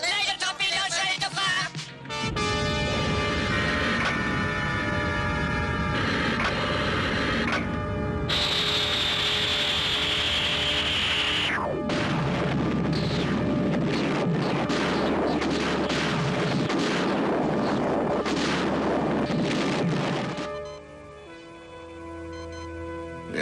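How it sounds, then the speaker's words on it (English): Laser torpedoes fire in a space battle with dense, sustained mechanical blasting and whining tones, loud and continuous for most of the stretch, broken by a short rising whistle before the barrage resumes and then cuts off. "Laser torpedoes to fire."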